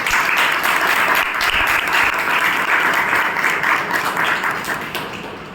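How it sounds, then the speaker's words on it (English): A room of club members at a meeting gives a hearty round of applause, dense, even clapping that holds steady before tapering off toward the end. "let us give her a big round of applause"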